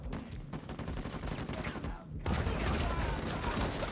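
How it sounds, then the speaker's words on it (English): Sustained fully automatic Venator rifle fire in the Uncharted 4 multiplayer match, a dense rapid stream of close, loud shots that briefly drops away before resuming even heavier. "I love that Milt is just shooting a fully automatic Venator"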